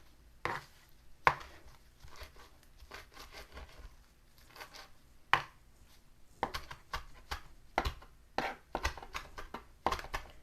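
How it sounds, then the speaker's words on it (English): Basil leaves, stripped from their tough stems for a beef stew, are roughly chopped with a knife on a board: irregular crisp knocks and leafy crunches, sometimes in quick bursts, sometimes spaced by pauses, close up with no talking. "We're just going to give this a rough chop."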